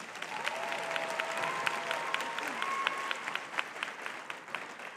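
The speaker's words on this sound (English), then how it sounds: "So please give a round of applause for yourselves." Graduates at a leadership school for young women applaud themselves at their graduation ceremony, steady dense clapping from a crowd that stays even and moderately loud for the whole stretch.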